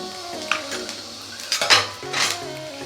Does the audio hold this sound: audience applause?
no